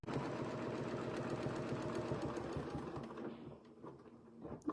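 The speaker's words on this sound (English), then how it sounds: "We're sewing kind of in this angle" A sewing machine runs stitching through a layered quilt sandwich at an angle, a rapid, rhythmic, close mechanical chatter for about three seconds, then it slows and stops, leaving faint handling clicks.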